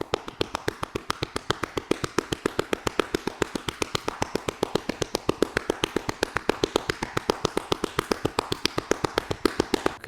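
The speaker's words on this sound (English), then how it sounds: "and then you can tap" Hands tap rapidly and steadily on the body during a lymph-stimulating self-care routine, a long run of close, crisp, evenly spaced pats with no pauses and no talking.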